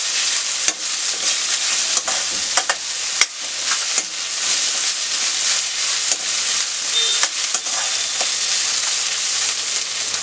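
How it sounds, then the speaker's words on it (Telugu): Onions fry on a high flame in a pan for restaurant-style veg cabbage Manchurian, with a loud, steady sizzle throughout and occasional scraping clicks from stirring. "మన ఆనియన్ కొంచెం వేగిన తర్వాత"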